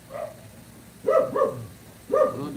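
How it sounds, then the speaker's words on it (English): A dog at home barks loudly and close by, four sharp barks in two quick pairs over a low background hum. "Bloody dog."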